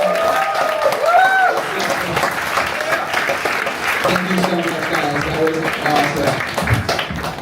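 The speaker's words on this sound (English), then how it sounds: "big round of applause for yourself" An audience claps in a steady, full round of applause that fills the space, with someone speaking over it to thank them.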